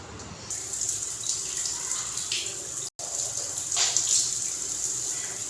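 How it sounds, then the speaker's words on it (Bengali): A small boy being bathed in a bathroom, with water running and splashing steadily and fairly close throughout, briefly cut off once midway. "এই দেখো ছেলে স্নান করছে।"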